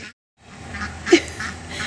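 A homestead duck gives a single short quack amid faint outdoor ambience after a brief silence, with no speech.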